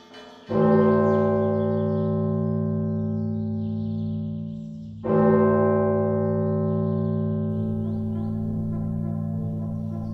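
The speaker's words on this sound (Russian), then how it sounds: "старинные колокола, они издают сверх слышимого диапазона частоты" Two deep strikes of old Belarusian church bells, several seconds apart, each ringing out with a long, rich humming decay and layered tones.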